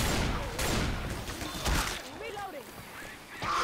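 Rapid bursts of gunfire rattle in a Left 4 Dead 2 match, dense and loud, mixed with game effects, with voices talking over the shooting.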